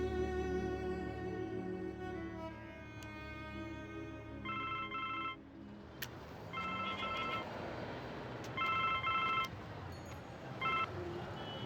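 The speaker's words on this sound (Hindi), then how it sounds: "आरा थाना फोन लगाइए" Outgoing telephone call to a police station in Ara, a dial tone followed by repeated electronic ringback bursts in a regular pattern over low background hum.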